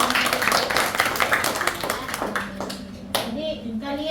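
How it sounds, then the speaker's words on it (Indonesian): A classroom audience at a teaching demonstration claps hands in a brisk, uneven burst, mixed with children's voices and chatter that continue as the clapping dies down. "silakan tepuk tangan"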